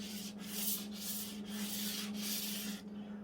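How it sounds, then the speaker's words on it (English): Sandpaper rubs along the edge of an aluminum plate in a home machine shop, with four or five even back-and-forth scraping strokes close by, cut off abruptly at the end. "a piece of sandpaper and sand down the edge."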